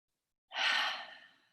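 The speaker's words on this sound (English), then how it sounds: "simply by rubbing your hands together and cupping and inhaling a few times" One soft, close inhalation of essential oil through cupped hands, a breathy rush that starts abruptly, then fades over about a second after silence.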